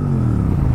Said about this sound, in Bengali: এবার চালু হলো ZX-10